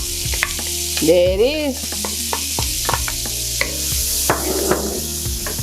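Chopped onion tossed into hot olive oil in a pan, a steady sizzle with clinks and stirring scrapes, close by, while a voice speaks briefly.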